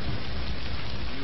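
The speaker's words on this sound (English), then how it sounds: "Are you afraid of thunder?" Thunder rumbles low and continuous beneath heavy steady rain, a dense, loud wash of storm noise with no talk over it.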